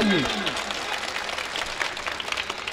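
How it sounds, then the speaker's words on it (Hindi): Audience clapping at a Hindi-Urdu poetry recital (mushaira), a broad wash of applause spread through the crowd with a brief voice at the start, holding steady for a few seconds. "इस कोने से लेकर उस कोने तक ताली बनना चाहिए।"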